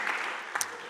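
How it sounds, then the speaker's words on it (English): Audience applause at the EuroPython 2024 conference closing session, a brief, fairly loud wash of many hands with a couple of sharper accents near the end, lasting about a second. "please a round of applause for Mr. Green Mask as well"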